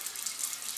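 Tap water running steadily over a makeup brush being rinsed at a sink, a soft continuous splashing stream heard close up with no talk.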